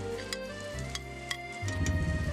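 Spring onion whites, cashews and garlic frying in a pan and being stirred, a steady close sizzle with light ticks and clinks from the spoon, the frying growing denser and louder toward the end.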